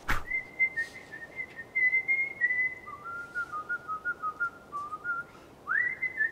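Someone whistles a melody up close, holding long notes with a few pitch jumps, over a faint rustling background.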